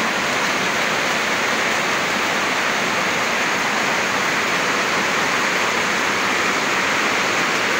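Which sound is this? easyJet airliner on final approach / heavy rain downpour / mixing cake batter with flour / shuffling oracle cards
heavy rain downpour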